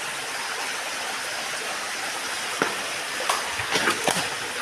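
Steady rushing water flows continuously at moderate volume, with a few faint knocks and splashes near the end.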